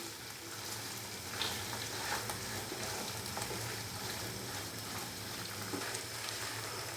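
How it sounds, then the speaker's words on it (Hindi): Mutton pieces browning in oil for a mutton and tinda curry: a soft, even sizzle runs continuously with faint crackles and stirring, fairly quiet and with no voices. "मटन को मैंने अच्छे से भून लिया है ऑयल के अंदर"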